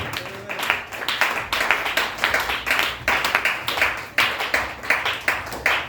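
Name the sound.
congregation applauding and cheering the Lord in church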